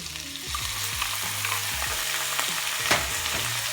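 Onion, sweet peppers and pineapple sauté together in a hot pan for sweet and sour chicken, giving a steady close sizzle broken by repeated scraping stirs, with no talking.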